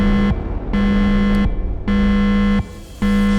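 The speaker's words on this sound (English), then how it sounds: "Nice alarm" Alarm in the video game Lobotomy Corporation, a loud, harsh buzzing tone that pulses on and off in long, repeated blasts with short gaps between them.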